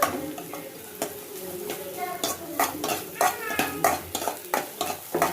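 Paneer and cauliflower frying in a pan, with a steady sizzle under repeated sharp scrapes and clinks of a spoon stirring against the metal, close and fairly loud.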